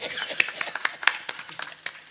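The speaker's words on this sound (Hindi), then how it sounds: "एक बार ताली बजना चाहिए।" A few people in a Ramayana recitation gathering clap sparsely and unevenly, with scattered sharp hand claps at close range and some talk underneath.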